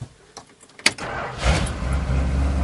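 A car engine cranks and catches with a loud muffler, a few clicks and a sharp thump before the motor fires into a rough, rumbling idle up close.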